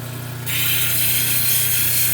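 A piece of gray shell being ground into a pendant, a loud, steady grinding buzz from a power tool, close and continuous, with a sharp rise in harshness after the first half second.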